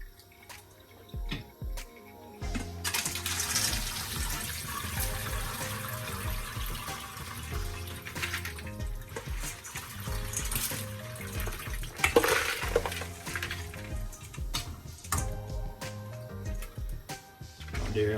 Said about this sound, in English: Make sure you rinse off your sorrel before you start to throw them inside your pot.